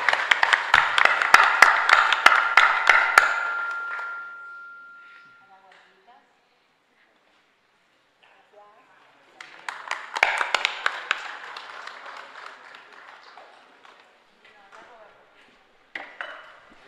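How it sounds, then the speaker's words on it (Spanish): A church congregation at a Mass in a chapel claps in a dense burst of applause that fades out, returns after a pause for several more seconds, and ends with a short final spatter. "Aplauso para Carlos Barrios, Exxon Disco."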